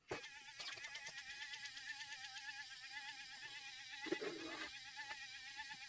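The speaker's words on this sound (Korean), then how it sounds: "이게 필라멘트가 녹는 소리거든요." A thin, steady high-pitched electric whine with a faint buzzing texture from a 3D pen melting plastic filament runs throughout, with a few brief clicks and a soft mechanical rattle near the end.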